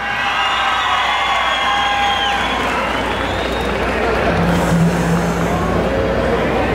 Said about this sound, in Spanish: Si usted quiere que gane el toro llamado La Herencia de mi padre, de La Esperanza y su jinete, regálele fuerte el aplauso.